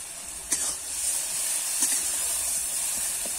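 Water from rinsing a spice bowl poured into a hot pan of fried spices for a fish curry, producing a steady loud hiss and sizzle after a couple of short splashes, close and unbroken.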